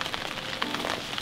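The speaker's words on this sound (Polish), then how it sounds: "Pada deszcz" Rain patters steadily on a tarp sheet at a riverside camp, a dense, even hiss of drops with a few brighter taps, close and continuous through the brief moment.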